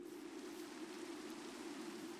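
Steady rain falls in Minecraft with the Weather and Tornadoes mod, a continuous even hiss of rainfall with no breaks across the whole stretch and no talking.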